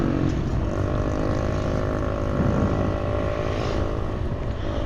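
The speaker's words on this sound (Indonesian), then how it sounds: "Ini anak muda sekarang ini suka yang knalpot begitu," A loud modified motorcycle exhaust (knalpot) drones on a town street in Brahrang, Binjai, a steady close engine roar with a rough, throbbing low tone that holds without pause, no voices.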